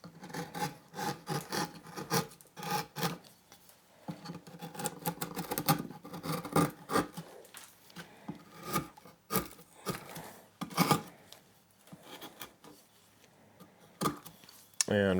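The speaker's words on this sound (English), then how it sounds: "And now I'm going to use the gouge to take the hard corners off or down." A wood gouge carves cottonwood bark in short rasping scraping strokes, irregular bursts of cutting close to the mic with brief pauses between them, and a person talks intermittently.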